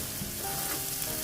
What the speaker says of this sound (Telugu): అల్లం వెల్లుల్లి పేస్ట్ వాసన అంతా పోయే వరకు, మంచి గుమగుమ స్మెల్ వచ్చే వరకు ఫ్రై చేసుకోవాలి